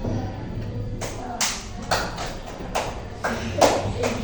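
In a classroom guidance lesson, a teacher claps her hands as if swatting mosquitoes for a counting game. A series of sharp, separate claps comes at uneven intervals, close and distinct over a quiet room.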